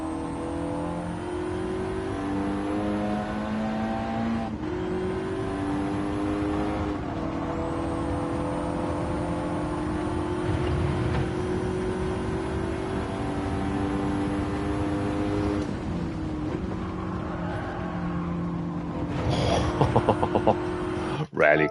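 Race car engines from Gran Turismo 7 rallycross drone and rev steadily, pitch climbing and dropping with gear changes and braking, sustained and fairly loud, with talk over the engine noise.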